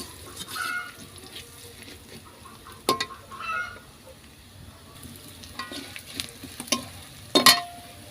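Turmeric powder and cumin being mixed into hot oil produce a low, intermittent sizzle broken by sharp spoon scrapes and clicks against the pan.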